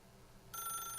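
An electronic telephone ring from The Stanley Parable starts abruptly and holds as a bright, faint trill over a low hum.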